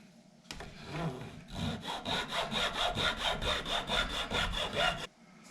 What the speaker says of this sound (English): Nice thing about the flush cut saw is the teeth don't stick down on the side, so they don't scratch it